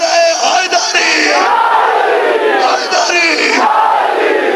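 A large crowd at an Eid Milad un Nabi gathering roars the slogan Nara-e-Haidari in loud, sustained massed shouting, swelling in two waves over a few seconds.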